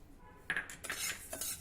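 Rice being stirred in a kadhai while roasting for yesar masala, a few quick metallic scrapes and clinks of a spoon against the pan, close and fairly faint, with no talking.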